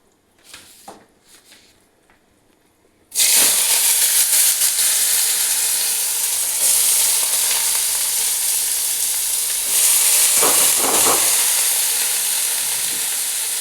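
Onions dropped into hot oil with sugar burst into a loud, close sizzle that keeps going steadily, with a few stirring touches and no talk after a short quiet start.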